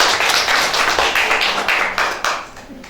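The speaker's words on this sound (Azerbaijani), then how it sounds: "Alqışlayaq." A classroom audience applauds a student reciter in a steady burst of rhythmic clapping from a modest group, close and fairly loud, fading toward the end.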